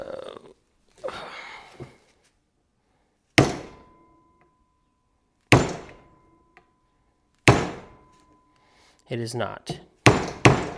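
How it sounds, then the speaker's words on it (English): Several sharp metallic hammer strikes on a chain pin of a Honda 400EX, spaced a second or two apart, ringing briefly, with a few words spoken quietly in between. "I'm going to try and tap that out with a hammer"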